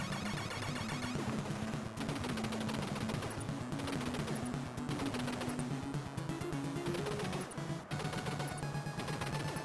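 Rapid gunfire from the Contra video game pops repeatedly and continuously, mixed with the game's driving music, with no talking.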